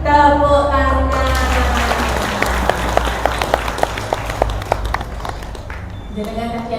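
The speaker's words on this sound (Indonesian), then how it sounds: "Tepuk tangan." A group of parents at a parent gathering claps hands in a scattered, uneven burst of claps over steady room noise, with a voice speaking at the start and again at the end.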